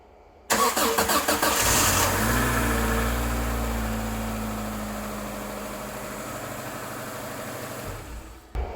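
A Subaru engine cranks briefly with a quick whirring rhythm, then fires up and settles into a loud, steady idle close by, which gradually eases before a short clunk near the end.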